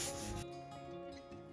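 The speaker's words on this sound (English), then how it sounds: "When sanding glass, make sure that the sandpaper is wet." Steady abrasive rubbing of wet sandpaper on glass, a wet, gritty rasp, loud and close, continuous over a brief stretch with a slight drop midway.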